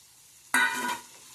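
Prawns frying with spices over low heat, a soft sizzle that bursts in suddenly partway through, holds briefly and fades, with a fresh burst at the very end.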